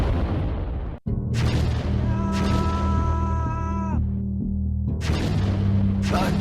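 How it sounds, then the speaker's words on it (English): Artillery shelling in a Lego stop-motion trench warfare film: a sharp cut, then heavy booming blasts with descending whistle-like tones, a brief lull and another burst, loud and close. "Incoming artillery, get to your dugout!"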